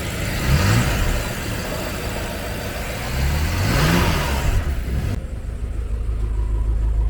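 A tuned BMW X6M engine, built toward 1200 hp, revs up in two swelling pulls over a steady nearby rumble, then the broadband roar drops away abruptly into a deep idle near the end.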